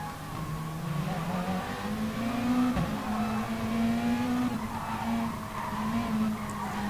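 A GTC-1 race car in a racing video game holds a loud, steady engine drone, shifting up once midway with a brief drop in pitch, while faint tire skids run underneath.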